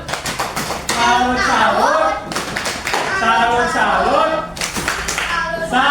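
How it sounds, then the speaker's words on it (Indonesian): Schoolchildren in an elementary classroom clap together for a presenting group, bursts of rhythmic hand claps starting and stopping between an adult's speech and children's voices. "Tepuk tangan dulu."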